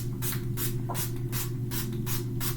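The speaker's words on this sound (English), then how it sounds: "let me check the spray" A makeup setting spray bottle mists in quick, evenly spaced bursts, about eight hissy pumps in a row over a steady low hum.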